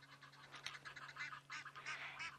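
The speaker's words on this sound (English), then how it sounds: "the geese are making such a noise at each other. Calling to each other." Geese honking back and forth at a sunset safari waterhole, a quick run of overlapping calls heard at a distance and fairly faint over a steady low hum.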